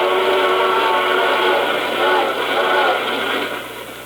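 A steam train whistle blowing in an old radio drama, a loud sustained tone held for several seconds over rumbling rail noise, easing off at the end.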